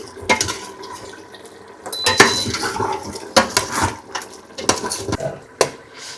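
Ragi mudda and mutton curry being stirred in a metal pot, a spoon scraping and clanking against the sides in irregular, fairly loud bursts close by, with no talking.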